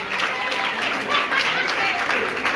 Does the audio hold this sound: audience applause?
yes